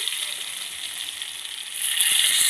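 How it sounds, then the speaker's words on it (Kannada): Mustard seeds, cumin, crushed garlic and curry leaves fry in hot oil for a tomato sambar, producing a continuous bright sizzle that swells louder near the end, with faint ticks underneath. "ಇವಾಗ ಇದನ್ನು ನಾವು ಚೆನ್ನಾಗಿ ಎಣ್ಣೆಯಲ್ಲಿ ಸ್ವಲ್ಪ ಫ್ರೈ ಮಾಡಬೇಕಾಗುತ್ತದೆ"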